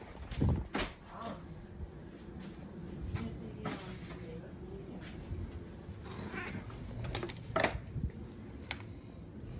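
A cat meows several times, near and fairly loud, with soft background noise and a little voice between calls.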